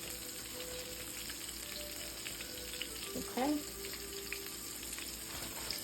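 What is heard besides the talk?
shrimp frying in oil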